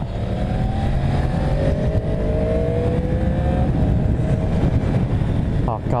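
A 2015 Yamaha R1 motorcycle engine with a choppy throttle revs unevenly while riding, its pitch rising and lunging over heavy wind rumble. It sounds loud and close for the whole stretch.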